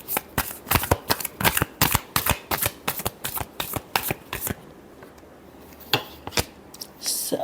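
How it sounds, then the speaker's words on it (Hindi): Tarot cards shuffled by hand in quick, crisp riffling bursts that flutter loudly and close by, with a short pause and then a few more snaps at the end. "Last shuffle."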